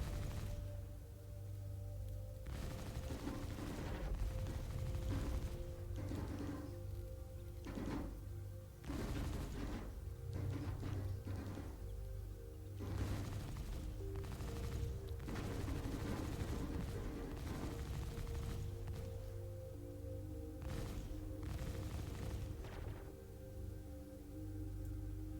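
Ship turret gunfire in a space video game, fired in repeated short bursts over a steady engine hum, with broad blasts recurring throughout.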